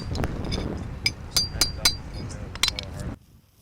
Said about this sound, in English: Use detail tools, in this case a hammer and chisel, to address imperfections in the surface